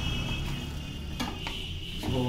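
Paneer, peas and mushrooms get stirred into a thickened gravy in a pan, making soft scraping and dull knocks under a steady background hiss at close range.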